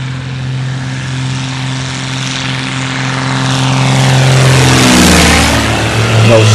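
An Alpi Pioneer 300 light propeller aircraft takes off from a grass strip, its engine drone building steadily louder and rising in pitch as it accelerates and passes close by, with no voices.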